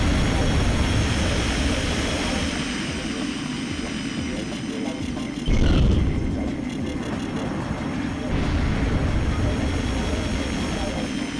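Many airplanes fly through a battle in the PS2 video game Armored Core 2, giving a dense, loud, continuous engine roar with a brief louder surge partway through, and a voice talks over it.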